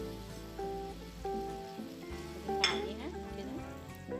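Chicken pieces seasoned with salt, pepper, garlic powder and curry sizzle steadily in a hot pan, with occasional stirring scrapes and clinks close by.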